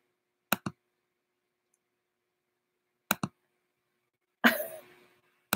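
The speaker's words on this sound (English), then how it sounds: "No, that's typing." A few isolated clicks from a keyboard during a livestream: sharp double taps spaced seconds apart, then a brief rustling burst, with silence in between.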